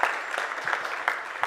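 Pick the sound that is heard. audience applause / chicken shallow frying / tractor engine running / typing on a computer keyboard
audience applause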